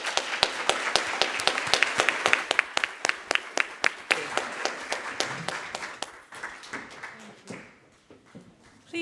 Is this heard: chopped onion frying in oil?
no